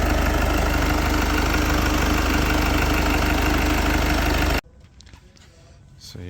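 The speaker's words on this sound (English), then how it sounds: "This is a diesel engine." A Mitsubishi Delica's diesel engine idles close by with a steady low rumble for about four and a half seconds, then cuts off abruptly and leaves quieter background sound.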